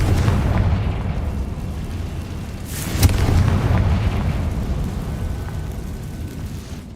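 A Confringo fire spell in the game Hogwarts Legacy lands as a sharp blast near the middle and then a rumbling roar, over a low, constant game ambience that stays steady before and after the burst.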